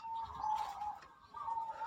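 A soft, close zebra dove (perkutut) coo repeats twice with a brief gap between, gentle rounded hoots over quiet background.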